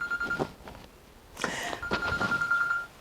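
A telephone rings inside a villa in Urla, İzmir with a steady electronic tone in two bursts, fairly close, under quiet room noise and a few faint voices.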